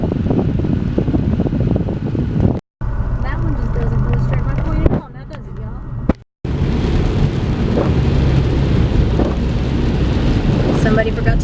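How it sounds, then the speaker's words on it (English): Heavy rain pours down steadily during a Fourth of July storm, runoff gushing into a roadside ditch, a loud continuous wash broken by two brief drops to silence. "Look at all the rain going in the ditch."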